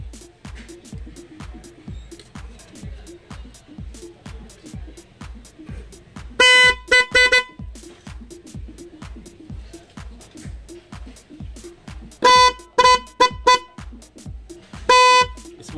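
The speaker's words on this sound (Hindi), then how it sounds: "हम हॉर्न को चेक करेंगे दोनों को एक साथ बजाकर।" Steady rhythmic engine ticking runs throughout, broken by several short, loud blasts from a Hyundai Creta's two horns sounded together, one faulty and silent, in quick groups of toots.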